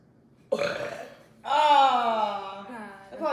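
Two loud, drawn-out burps follow a gulp of Sprite soda, the second long and resonant, with a third one starting at the end; no speech is heard.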